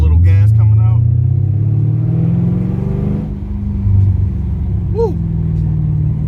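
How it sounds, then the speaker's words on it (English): A Mercedes CL550 coupe on a winding hill road gives a low, rumbling engine note that swells as the car accelerates, with someone talking over the drone inside the cabin. "See, give it a little gas coming out."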